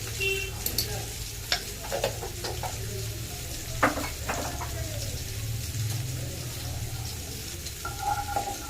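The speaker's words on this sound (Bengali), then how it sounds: "একদিকে আলু ভাজা চাপাচ্ছি একদিকে মাছটা ভাজা চাপিয়ে দিই" Potatoes and fish fry in a pan on a home stove, giving a low, steady sizzle with scattered clicks and scraping stirs close by, and no voices.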